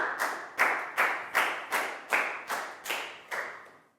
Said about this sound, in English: a big round of applause for Pat,